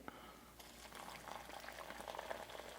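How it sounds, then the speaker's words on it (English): Water poured into a plastic Long Range Patrol MRE food bag for beef hash, a steady close gurgling, splashing trickle running for about three seconds without speech. "Let's put some water in it to start."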